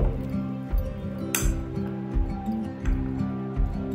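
Semolina batter being mixed in a bowl, with a spoon clinking and tapping against the sides in an irregular, close, moderately loud rhythm.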